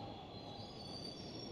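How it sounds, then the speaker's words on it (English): A train pulls into a station in a train station simulator game, giving a steady rolling rumble with high wheel squeal running throughout, loud and continuous. "We have a train arriving!"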